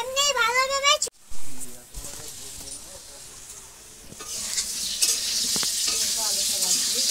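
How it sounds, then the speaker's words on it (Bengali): Potatoes fry in a pan over a wood-fired village kitchen stove, giving a continuous crackling sizzle that grows brighter toward the end, after a brief burst of voices at the start and faint talk underneath. "আলুটা ভাজছি"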